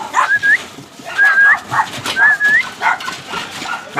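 Rottweiler and German shepherd dogs yelp and whine in short, high, rising cries, repeated several times over a busy, noisy background, with barking mixed in at moderate distance.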